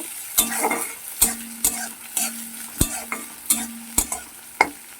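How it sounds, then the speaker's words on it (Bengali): Chopped onion frying in oil in a pan for a katla fish kalia, stirred with a utensil: a steady close sizzle broken by about nine sharp scraping strokes at an uneven rhythm, with no talk. "এক মিনিটের মতো এটাকে ভেজে নিতে হবে"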